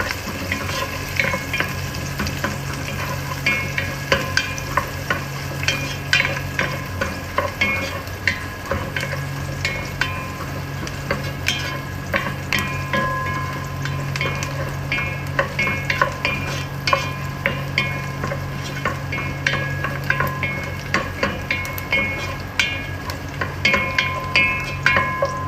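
Garlic sautéing in a pan for tinolang manok, a steady oily sizzle broken by frequent scraping and clinking of a spatula stirring against the metal.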